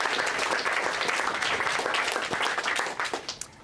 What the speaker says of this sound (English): give a round of applause for Julian, please.